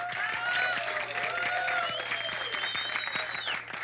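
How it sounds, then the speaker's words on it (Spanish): An audience claps steadily at a live music show welcoming a singer, a dense continuous round of applause with faint musical tones and crowd noise mixed in, tapering slightly at the end. "Un aplauso para ella."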